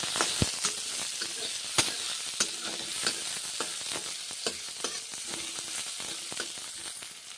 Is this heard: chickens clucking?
no